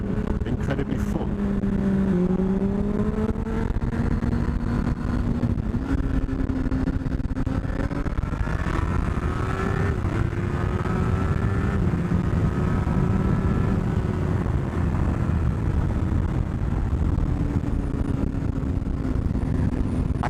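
Motorcycle engine while riding, after a crash: a loud, continuous engine drone that rises and falls through the gears under heavy wind rush, with someone talking over it.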